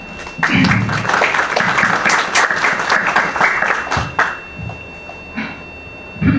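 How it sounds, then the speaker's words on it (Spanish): An audience at an academic book presentation applauds a speaker, a dense steady burst of many hands clapping for about four seconds, then fading to scattered claps and room noise. "para quien pido un fuerte aplauso"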